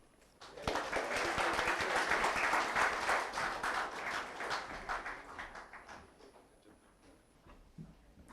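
An audience at an inauguration ceremony breaks into applause that swells quickly, holds steady for several seconds, then gradually tapers off into faint scattered claps.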